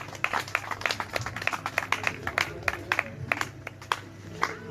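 A church congregation claps to acclaim the Lord, a brisk run of distinct, slightly uneven handclaps from a modest number of people, fairly close over a low room murmur.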